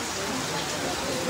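Heavy rain falls during an outdoor show at a resort birthday celebration, a dense, even wash of drops hitting surfaces nearby for a brief moment.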